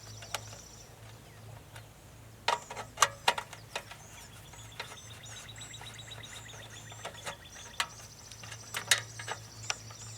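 Small bolts on a Briggs & Stratton small-engine fuel tank being loosened with a Southwire multi-bit screwdriver, giving faint, scattered metallic clicks and ratcheting ticks close by in a quiet room.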